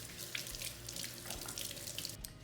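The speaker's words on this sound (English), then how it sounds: "let me wash my hands" A kitchen faucet runs into the sink while hands are washed during stuffed pepper preparation. The stream is faint but continuous and splashy, with no voices.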